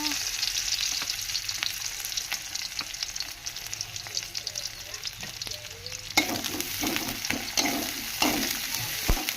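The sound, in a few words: onions frying in oil for matar curry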